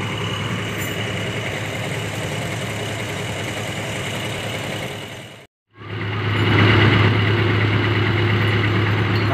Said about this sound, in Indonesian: lokomotif sudah sampai di lokasi